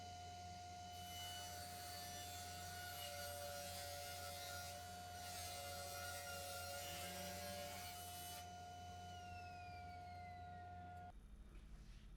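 A 1/2 inch section is cut out of the full side of a wooden cabinet for an entertainment shelf: a steady, fairly faint tool whine and rasping run continuously for about eleven seconds, then stop abruptly.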